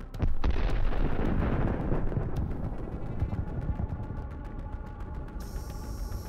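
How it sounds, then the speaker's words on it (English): A missile launcher explodes with a sharp, loud blast followed by a long crackling, rattling decay of debris and repeated small clicks as it fades. "The missile launcher explodes into hundreds of small pieces."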